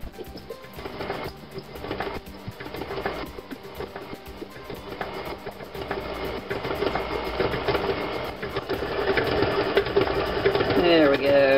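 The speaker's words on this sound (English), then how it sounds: "we're going to cream this here butter. See if my machine will not make a whole bunch of noise this time." Electric mixer creaming butter for zucchini chocolate chip cookies, a steady close mechanical whir and rattle that grows louder over time, with a person talking over it.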